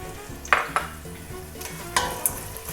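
Cinnamon sticks, cardamom pods, star anise, cloves and pepper fry in hot ghee for ghee rice, a soft sizzle punctuated by a few sharp clinks of a spoon against the pan, close and without talk.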